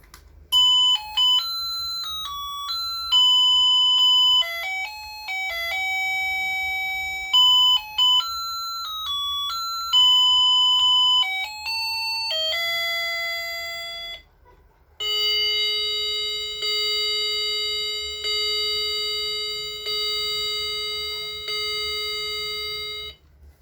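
A steering-wheel-shaped melody wall clock plays its electronic chime tune, a bright sequence of clear beeping notes at a brisk pace, followed by a run of held tones, close and alone.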